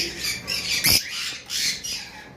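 A violet opaline pet bird gives short, bright chirps and calls at close range, with one sharp squawk standing out among softer chatter.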